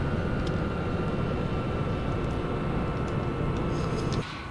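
A B-52E Stratofortress bomber in Flight Simulator X, its engines giving a steady, loud roar with a broad rumbling drone and faint whine that drops off abruptly just before the end.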